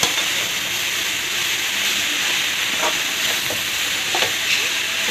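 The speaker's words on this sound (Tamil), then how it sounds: "இதே நல்லா ஃப்ரை பண்ணிடணும், அதான் காரம் எல்லாம் ஒன்றா சேரும்." Chili powder fries in a pan for soya shawarma, giving a steady, bright sizzling hiss with a few faint scrapes of stirring, close and even-toned throughout with no voices.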